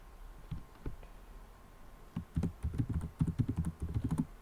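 Keys on a computer keyboard tapped as a welcome message is typed: a few isolated clicks, then a quick irregular run of keystrokes, close and fairly quiet.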